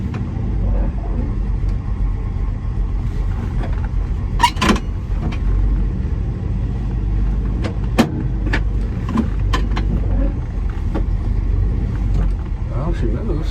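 A car with a repaired transmission rolling and driving, a steady low engine rumble with occasional creaks and sharp mechanical clicks, with a person talking over it.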